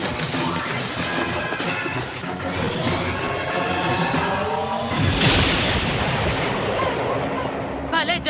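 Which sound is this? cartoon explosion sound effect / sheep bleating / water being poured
cartoon explosion sound effect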